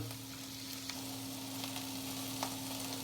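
Vegetables roasting in olive oil in a pan give a steady, continuous sizzle and crackle with occasional small pops, close and even throughout, with no voices.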